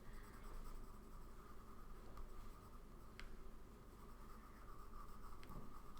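Pencil shading on paper as one side of a face is darkened, a steady soft scratchy rasp of graphite strokes running continuously and close, with a couple of brief sharper ticks.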